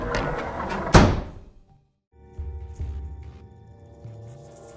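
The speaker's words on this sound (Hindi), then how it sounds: "महल का दरवाजा जोर से अपने आप बंद हो गया" A heavy palace door slams shut, one sharp loud bang with a booming tail that dies into silence, followed by low eerie drones and scattered soft knocks.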